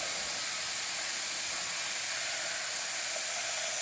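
Flour-coated cube steaks sear and fry in a hot pan, giving a constant loud hissing sizzle with no pauses and no talking.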